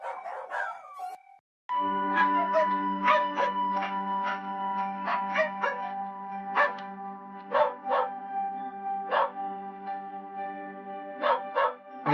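Many dogs bark, yip and whimper inside a dog meat farm shed, sharp repeated barks over a steady humming drone, close and fairly loud.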